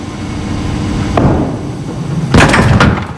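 A 5-pin bowling ball rolls down the lane and crashes into the pins with a sharp clatter near the end, loud and close, with no talk over it.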